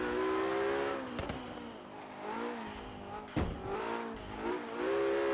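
A Porsche E-Hybrid accelerating along a highway in the racing game Forza Horizon 3 gives a rising, falling engine whine through repeated gear shifts, with a few sharp bursts, moderately loud and alone.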